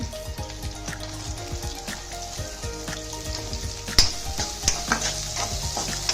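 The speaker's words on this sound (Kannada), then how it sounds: "ಉಳ್ಳಾಗಡ್ಡಿ ಹಾಕಿ ಕೂಡ ನಾವು ಫ್ರೈ ಮಾಡಬೇಕು" Onions and green chilies fry in oil for sabudana khichdi, a close steady sizzle broken by scraping stirs and clicks of the spoon against the pan, with no talk.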